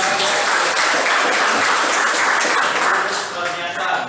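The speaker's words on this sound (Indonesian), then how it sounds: "kita berikan tepuk tangan" Classroom applause after a student group's presentation on globalization, steady dense clapping from the whole class filling the room for several seconds.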